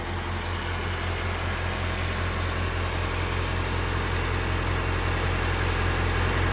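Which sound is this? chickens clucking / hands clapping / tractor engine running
tractor engine running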